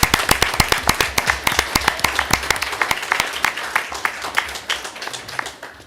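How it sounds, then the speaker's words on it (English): Round of applause from an audience at a school board meeting, many hands clapping steadily and fairly close, fading toward the end, with a little talk underneath. "Let's give Seth a round of applause."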